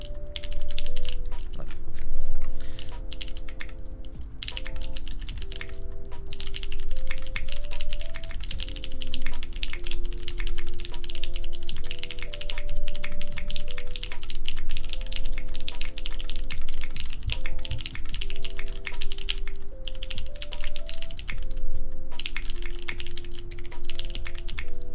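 Steady, brisk typing on a plateless XENO mechanical keyboard, a dense run of close clacking keystrokes with no pauses, over faint background music.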